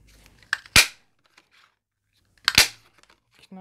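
A small 3/4-inch circle punch with a fault snapping through white cardstock: two loud, sharp cracks about two seconds apart, each with a short crunchy rustle around it, in an otherwise quiet room.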